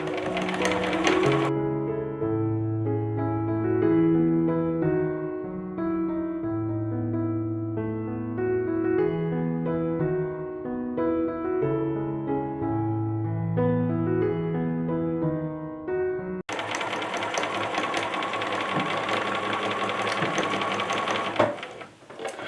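A sewing machine stitches a jacket seam, running forward, reversing to backstitch, then sewing forward again. The steady mechanical hum plays alone with rhythmic pitch shifts through the passes, then gives way to a louder, noisier stretch near the end.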